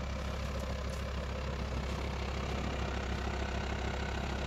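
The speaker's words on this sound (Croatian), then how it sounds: "Kako taj motor šapći." A car engine idles with a steady, low, even rumble that stays quiet and unchanging throughout, with no other sounds.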